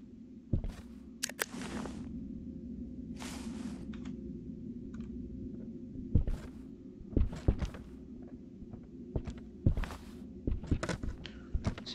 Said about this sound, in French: C'est toi les bruits de pas.